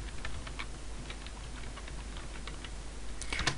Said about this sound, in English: So, to do this, you type in net and then local group